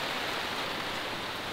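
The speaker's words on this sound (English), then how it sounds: "it's raining, as you can see" Steady rain falls on a camping trailer, a dense, even hiss of drops that stays loud and close throughout with no voices.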